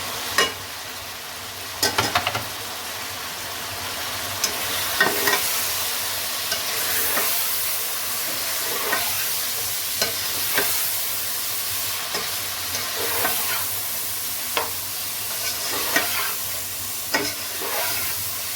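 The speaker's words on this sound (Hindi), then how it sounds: "यहाँ पे इसको अच्छे तरह से भून लेना है कि सारे जो ये टमाटर और जो जितने भी मसाले मैंने ऐड किए हैं अच्छे से गल जाए" Tomatoes, salt, chillies and spices fry in a pan for chicken pulao, with a continuous close sizzle broken by repeated scrapes and clinks of a spoon stirring the mixture.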